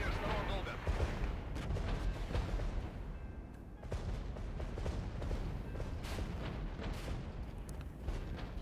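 Artillery fire in the Regiments war game, a dense rumble of distant booms and crackling blasts rolling on without pause.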